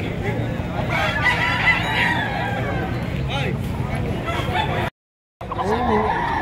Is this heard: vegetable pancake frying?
no